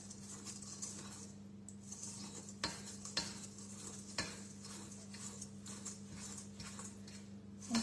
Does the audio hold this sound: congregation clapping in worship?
no